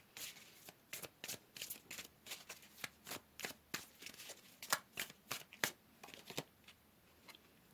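Tarot cards are shuffled by hand in a quiet room, a rapid series of crisp riffling snaps and soft slaps in quick irregular bursts, close and alone.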